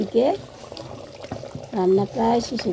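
Goat meat and potatoes simmer in a clay pot, with a low bubbling under a voice that talks through most of the clip.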